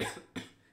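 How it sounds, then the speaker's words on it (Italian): A man with a cold and chest pain gives two quick, close coughs, a harsh burst followed by a second shorter one, heard alone without speech. "Ecco, ho una tosse,"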